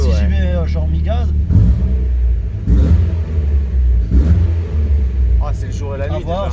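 A turbocharged 16-valve Volkswagen Golf 2 GTI runs on a dyno, its engine droning loud and steady at part throttle with low rumbling rises, while voices talk over it.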